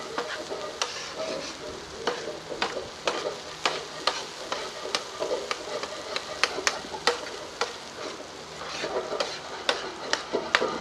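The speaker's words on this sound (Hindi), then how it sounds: "इसे मिक्स कर लेंगे ताकि मसाला अच्छे तरीके से इसमें रच जाए।" Brain masala sizzles steadily in a hot pan while a spoon stirs it, scraping and clinking against the metal in frequent sharp strokes over the continuous close frying hiss.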